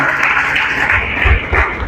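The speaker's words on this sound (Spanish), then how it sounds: "Aplauda a su Dios entonces." A church congregation at a Sunday service applauds loudly and continuously, a thick wash of many clapping hands with low thumps rising beneath it partway through.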